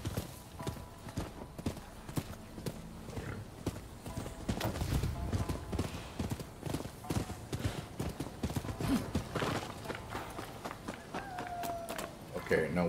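Horse hooves clip-clop steadily at a running pace while riding in the video game Rise of the Ronin, with a brief whinny, close and continuous beneath a person talking.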